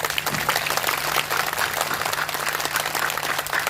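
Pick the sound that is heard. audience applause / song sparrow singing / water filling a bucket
audience applause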